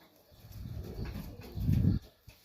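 Junior highflyer pigeons coo in a loft, a low murmuring burble that swells to a louder, closer coo near the end before stopping, with a brief soft knock afterward.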